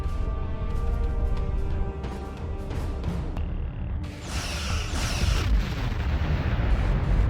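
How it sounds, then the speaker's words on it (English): Starship weapons firing in Star Trek Online during a battle against an Undine planet killer, with a sustained rumbling barrage, sharp bursts and rising whooshes of energy fire, loud and close. "Target that ship, and fire all weapons!"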